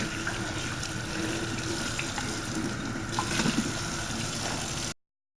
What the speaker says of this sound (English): Just need to rinse off the powder from the dishwasher soap.